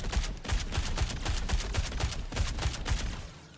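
Automatic gunfire in a video game, fired without a recoil compensator: a rapid, continuous string of sharp shots in close, fairly even succession that sustains for over three seconds and then tapers off.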